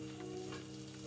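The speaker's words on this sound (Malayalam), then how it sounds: "നമ്മൾ നേരത്തെ കാണിച്ച ബട്ടർ ഇതിൻ്റെ അകത്ത് ഒരുക്കാനിട്ടിട്ടുണ്ട്." Butter melting in a hot pan before fish goes in for a continental dish, giving a soft, steady sizzle with a faint constant hum beneath and no voices.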